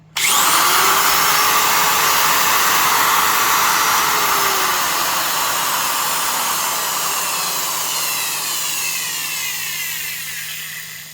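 Classic Milwaukee router motor, 12 amps, switched on and running at no load, a loud sudden whine that rises to a steady high-pitched whir and holds for several seconds before slowly winding down.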